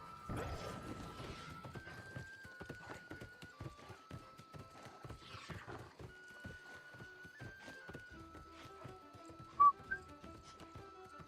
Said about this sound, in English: Whistle, whistle.